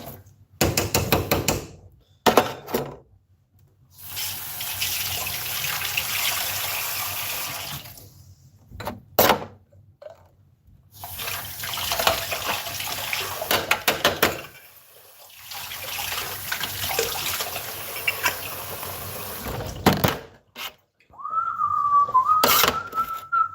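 Water is poured into an Italian stovetop coffee maker in several splashing bursts separated by silent pauses, with a high whistling tone rising near the end.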